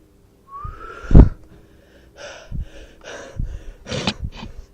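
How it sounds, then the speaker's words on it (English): Heavy breathing close to the microphone, a series of wheezy, gasping breaths with a whistling rasp in uneven bursts and pauses. "Heavy breathing"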